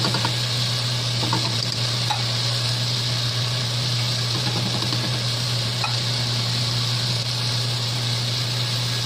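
Corned beef cooking with ampalaya (bitter gourd) in a pan, giving a steady, even frying sizzle under a constant low hum with a few faint clinks.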